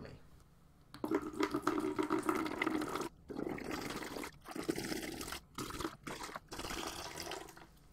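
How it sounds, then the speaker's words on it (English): Sanitizer solution poured into three wine-making buckets, a close trickling, splashing pour running in several bursts separated by brief pauses, fairly quiet. "Now that we have washed all our buckets, we just administer the sanitizer to all three of them evenly."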